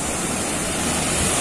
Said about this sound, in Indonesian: tapi permasalahannya ombaknya di sini cukup keras.